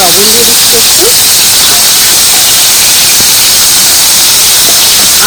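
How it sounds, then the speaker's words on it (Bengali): Soaked cauliflower hits hot oil with a loud, continuous, close-up hissing sizzle that fills the whole stretch, with faint voice fragments barely poking through early on. "এবার গরম তেলের মধ্যে ভাবানো ফুলকপি দিয়ে দিচ্ছি আর কিছুটা লবণ দিয়ে"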